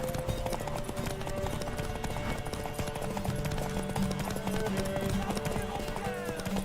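Horse hooves clip-clop steadily in The Witcher 3, a brisk rhythmic trot under game music, with voices talking over it.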